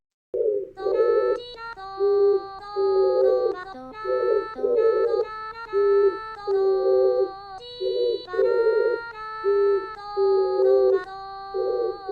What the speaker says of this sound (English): the singing of a pigeon has a complex spectrum with multiple maxima as shown in the figure